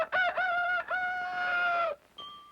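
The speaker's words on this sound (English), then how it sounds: "with the first cock's crow" A rooster crows at dawn on a farm, giving a long, loud, clear cock-a-doodle-doo with a stuttering start. A brief, fainter tonal call follows near the end, heard alone.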